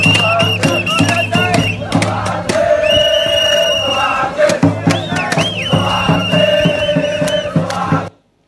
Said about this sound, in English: This is happy protesters cheering and chanting